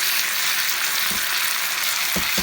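Garlic fries in a hot pan with a loud, steady close sizzle and a few soft stirring knocks near the end.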